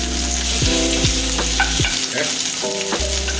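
A crab cake sizzles in a frying pan just after being flipped, with steady close frying crackle and a few utensil scrapes; a voice speaks one brief word.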